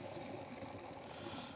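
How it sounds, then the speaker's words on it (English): Pasta water pouring from a pot into a kitchen sink, a steady close rush of running liquid without pause. "Switch off the heat, over to the sink, and drain the rest."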